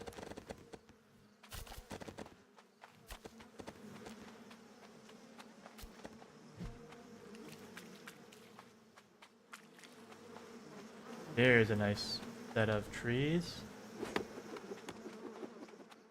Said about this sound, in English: Run from the bees.